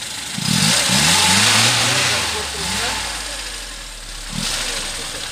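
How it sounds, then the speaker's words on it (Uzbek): A Zhiguli car engine idles and revs outdoors, rising and falling in a couple of throttle blips over a steady low rumble, close and fairly loud, with a voice speaking over it. "mana motorlar yurildi. Gaz berinchi,"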